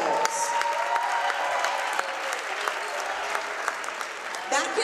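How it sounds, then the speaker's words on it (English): Crowd in a high school gym gives sustained applause for seniors at a varsity basketball senior night, dense clapping with scattered cheers throughout. "Let's give these seniors a big round of applause."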